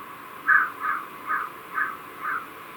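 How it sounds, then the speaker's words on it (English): Crows caw five times in a slow, even series, distant and fairly faint, over a quiet background hiss, recorded through an ONWOTE 4K security camera. "you can kind of hear crows crowing in the background"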